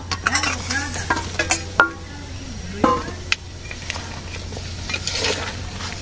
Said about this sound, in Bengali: এখন মাছ দিয়ে দেই ঝোল শুকনো আছে